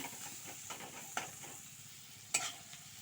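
Small fish and slit green chillies fry lightly with salt and turmeric, a quiet, soft sizzle with a couple of sharp stirring scrapes against the pan, fairly faint and without talk.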